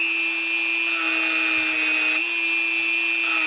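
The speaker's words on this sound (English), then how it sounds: "I can grind a little dimple in there" A power tool whines at a steady pitch while grinding a small dimple into a carborundum marble-grinding cup, a continuous high tone with a slight pitch shift partway, with no talking.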